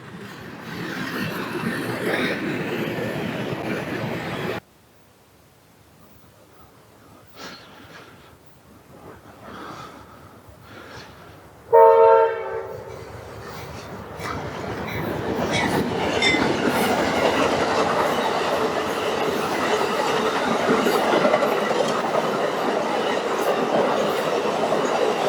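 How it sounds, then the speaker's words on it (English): A freight train rolls past with a steady rumble and clattering wheels, its horn blaring in one short loud burst midway before the heavy rolling noise builds and continues to the end. "Bonus freight train."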